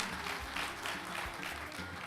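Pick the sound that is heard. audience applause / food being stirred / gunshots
audience applause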